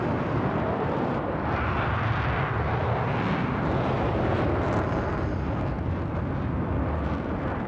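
An F/A-18C fighter jet in Microsoft Flight Simulator 2020 roars on full afterburner, a loud, unbroken broadband rumble and hiss that holds steady throughout.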